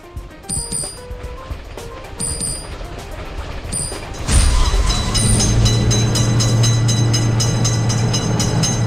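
Video game train rolling through a road railway crossing with a lifting gate, starting with light mechanical clicks and ticking, then a loud sustained rumble and hum from about four seconds on as the train passes close by.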